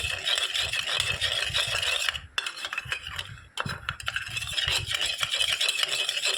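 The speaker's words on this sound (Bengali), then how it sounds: "ভালো করে মিশিয়ে নিতে হবে ফুড কালারটা" Food colour for homemade tutti frutti is stirred in a bowl, a close, rhythmic scraping and rubbing that pauses briefly twice before continuing, with no talk.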